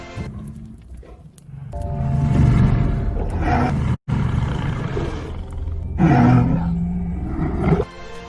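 A large wolf in a film, giving deep growling, roaring calls in loud bursts over a low rumbling backdrop.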